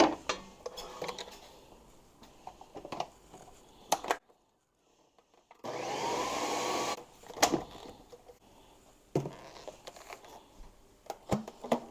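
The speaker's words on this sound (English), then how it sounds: "and I'll just mix them together." Roasted cauliflower batches being stirred together in a bowl, with scattered clinks and scrapes of a utensil, a brief pause, then a short burst of steady background hum before more mixing clatter.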